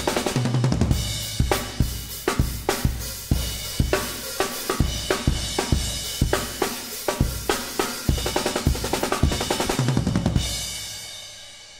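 A full drum kit with kick, snare, rack tom, crash cymbal and hi-hat plays a steady, lively beat, with sharp regular hits over continuous cymbal wash for about ten seconds before ringing out.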